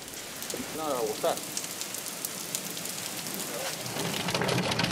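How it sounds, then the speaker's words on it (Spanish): A thunderstorm with heavy rain in Salamanca: a dense, steady roar of rain is joined by a low rumble of thunder near the end, and a brief bird-like chirp is heard early on. "Así golpeaban esta tarde las tormentas en Salamanca"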